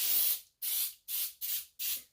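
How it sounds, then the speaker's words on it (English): Baker's Joy baking spray is sprayed into a cheesecake pan in five short, close hissing bursts, the first longer, with no talk over them. "So I'm just going to spray it lightly on the bottom"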